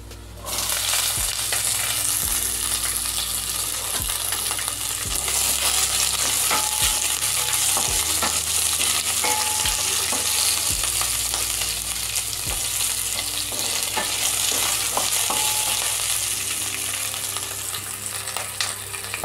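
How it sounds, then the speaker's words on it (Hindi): Onions frying in a pan for a soybean nutri curry, a loud, steady crackling sizzle with a low hum and occasional spoon knocks spread across nearly twenty seconds, and no speech. "अब फ्राई करते हैं। हम डाल देते हैं प्याज"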